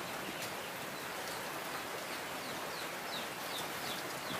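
Steady, dense heavy rain falls without pause during a flood, a constant hiss with a few faint bird chirps in the background.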